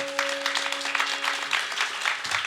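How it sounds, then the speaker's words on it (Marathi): Audience clapping loudly at a kirtan, a dense steady burst of many hands close by, with a sustained tone lingering underneath at the start. "जोरात टाळी वाजवा जोरात."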